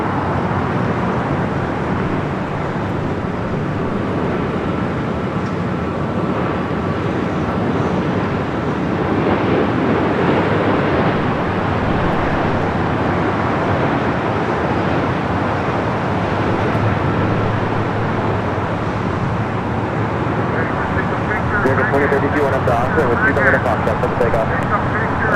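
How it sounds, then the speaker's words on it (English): United Boeing 787-9 Dreamliner inbound from Shanghai landing at Los Angeles LAX on the north side, a steady broad jet roar with wind and distant traffic noise running continuously throughout, swelling slightly in the middle. "we do have United Flight 199 coming up from Shanghai, 787-9 and Dreamliner. Next arrival there on the north side."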